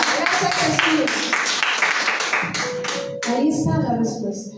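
A church congregation claps together in praise during a Spanish-language sermon, the rhythmic clapping loud and close, mixed with voices calling out.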